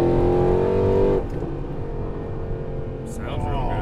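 Supercharged Weistec-built Mercedes C63 AMG V8 with about 680 wheel horsepower roars loudly on launch, then the note cuts after a second into a rougher receding engine rumble.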